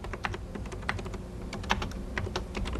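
Typing on a 1980s PC computer keyboard for business graphics software, a steady run of crisp, close keystrokes with a few louder taps, no talking.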